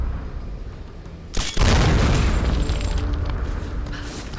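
A mine blows up in a Tomb Raider video game: a sudden loud boom that bursts in after a short quiet lead-in, followed by a heavy rumbling roar that slowly fades.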